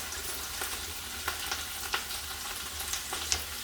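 Tofu and vegetables, sweet peas among them, sizzle steadily in a stir-fry pan with a soy sesame sauce, a continuous soft crackle broken by a few sharper pops and spatters, fairly quiet and close, with no voices.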